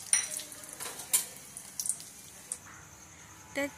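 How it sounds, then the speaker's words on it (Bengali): Black mustard seeds, cumin, cloves, bay leaf and dried chilli sizzle in hot oil, a close hiss broken by scattered pops and spatters, with a few brief clinks and splashes. "দিয়ে দিচ্ছি তেল, তার মধ্যে দিয়ে দিচ্ছি ফোড়নে দিচ্ছি সর্ষে, কালো সর্ষে নিয়ে নিচ্ছি"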